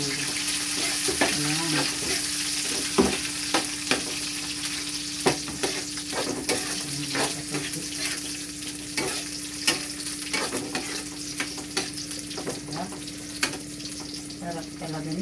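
Garlic and onion fry in a pan with a steady, close sizzle, broken by repeated scraping knocks of a utensil stirring, and a brief spoken word partway through.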